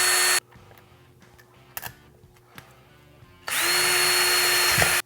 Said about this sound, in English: Next I'm going to drill a couple holes for the screws to go in here.